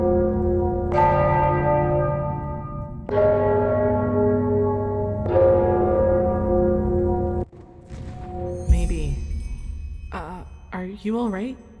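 Church bells ring out in the fantasy role-playing game Enderal: Forgotten Stories, three long resonant tolls in steady succession, loud and close, followed by game ambience with brief voices speaking.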